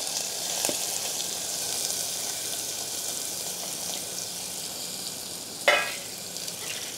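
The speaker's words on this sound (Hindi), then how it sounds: "छलने के बाद अब इसमें थोड़ा भूनने के बाद इसमें हम प्याज सम्मिलित कर देंगे।" Onions fry over low heat in plenty of hot oil for an Afghani chicken gravy, making a continuous close sizzle. A single sharp clack of a utensil is heard near the end, and no one talks.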